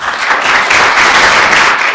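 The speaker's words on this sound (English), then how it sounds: "But anyway, round of applause." Dense audience applause at a business-launch seminar, a steady loud wash of many hands clapping with no pauses across the whole stretch, no voices standing out.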